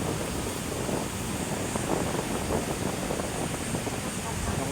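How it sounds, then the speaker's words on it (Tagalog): Strong wind buffets the microphone in the open air at Luneta, Rizal Park in Manila, a steady broadband rush with gusts, under faint talk. "Grabe yung lakas ng hangin"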